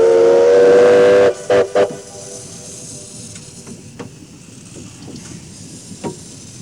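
Steam locomotive whistle blasting loud and sustained for about a second, then two short toots, followed by quieter train chuffing and rumble in the distance.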